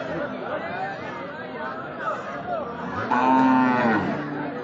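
Cattle at a busy livestock market low and moo, one loud drawn-out call rising near the end over steady crowd chatter and voices.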